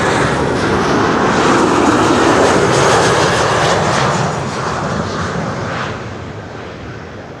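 A loud, continuous jet roar of an airliner landing on Runway 06 at Amsterdam Schiphol, arriving from Barcelona, swells, then slowly fades as it passes, a broad rushing engine noise with no voices.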